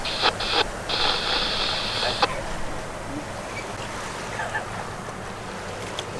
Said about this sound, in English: That was quite the wake.